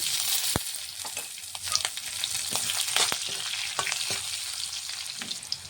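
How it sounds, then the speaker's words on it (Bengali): Black cumin and green chilli tempering in hot oil after fish has been fried, a bright steady sizzle with sharp pops and crackles scattered throughout, close up and without voices. "কিছুটা ফোড়নে দিয়ে দেবো কালো জিরে, কাঁচা লঙ্কা"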